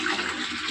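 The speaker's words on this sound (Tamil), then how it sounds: "அந்த கவரில் பாதி அளவு தண்ணி பிடிச்சிக்கிட்டேன்" Water gushes steadily into a large polythene plastic bag, a brief, loud, continuous rushing splash with no voices.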